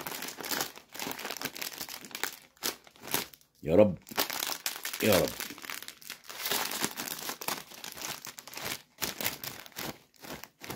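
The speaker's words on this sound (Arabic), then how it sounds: "ماشي، نفتح الكيس ده كمان" A foil bag of Lulu cheese-flavoured chips is crinkled and torn open up close, bursts of sharp crackling spread throughout, while someone talks over much of it.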